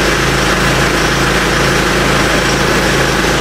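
A diesel car engine idles steadily in a garage during diagnostic checks, a constant low rumble at close range with an even, unchanging drone and no talk over it.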